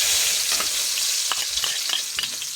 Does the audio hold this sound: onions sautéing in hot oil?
yes